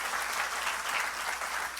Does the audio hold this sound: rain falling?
no